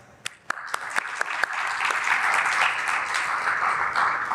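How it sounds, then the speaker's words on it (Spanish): A few scattered claps from the audience at an education panel swell quickly into full, sustained applause from a large crowd, a dense roar of hands holding steady to the end. "Le damos un fuerte aplauso."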